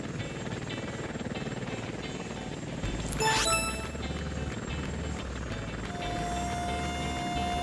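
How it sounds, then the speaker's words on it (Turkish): A helicopter drones steadily with a loud, constant rotor rumble, broken midway by a brief rising whoosh before the hum continues. "Bu bir helikopter."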